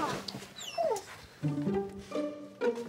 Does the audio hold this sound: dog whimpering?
yes